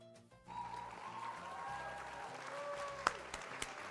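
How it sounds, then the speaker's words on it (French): An audience claps and applauds steadily, moderately loud, with a few sharper claps standing out near the end. "On applaudit."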